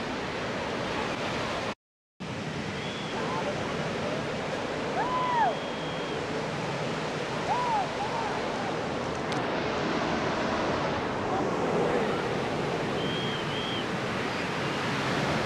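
Ocean waves wash steadily onto Perupalem beach at sunset, a constant loud roar of surf with some wind, and faint bird calls over it.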